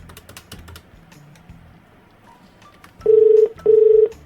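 A telephone is dialed for a prank call: a few quick keypad clicks and taps, then two loud, evenly spaced ringback tones, each lasting under half a second.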